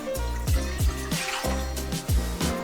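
A measure of 1.5 cups of water is poured while pickling quail eggs, with a run of rhythmic splashing glugs and drips close by.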